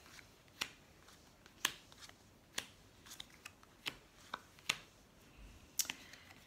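Tarot cards are shuffled and handled for a nine-card spread, with sparse, crisp snapping and riffling clicks spaced about a second apart, close and fairly quiet.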